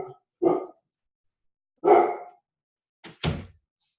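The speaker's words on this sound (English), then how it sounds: "the dogs are going to go crazy" Several dogs at home bark in a few separate bursts as someone arrives back from the airport, loud and close, with gaps of silence between barks.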